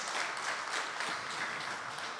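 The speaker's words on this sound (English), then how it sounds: "A big applause, everybody." Audience applause at a distinguished lecture on youth well-being: a crowd claps steadily and evenly, a close, sustained patter with no speech over it.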